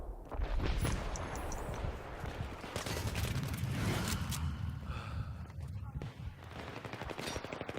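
Bursts of UMP-45 submachine gun fire in the shooter game Battlefield 3, rapid dense rattling volleys close up that come in stretches across the whole clip, with other battlefield noise mixed in.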